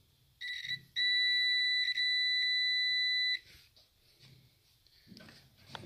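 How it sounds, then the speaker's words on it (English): A multimeter gives a bright, steady electronic beep as its probes touch together in a continuity check, one sustained tone lasting a couple of seconds with a brief dip partway. "my meter has a beep, makes a beep. And you can always test it"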